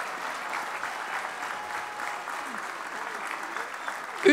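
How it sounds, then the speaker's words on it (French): An audience at the opening ceremony of the 2019 World Aerobatic Championships in Châteauroux applauds the arriving Belgian team, with steady, moderately distant clapping sustained throughout. "On peut les applaudir bien fort."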